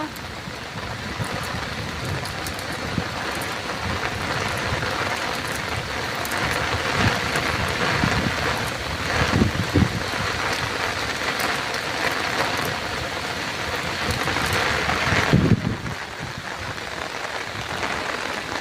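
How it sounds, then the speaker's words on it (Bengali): Heavy rain falls on a Sundarbans village, a constant dense hiss of water striking surfaces with occasional louder splashes and a low rumble, steady for the whole stretch and fairly close. "কি বৃষ্টি লেগেছে বাবা"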